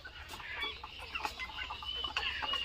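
Soft clucking from native Bangladeshi hens in the background at midday, faint and scattered over a steady outdoor noise floor.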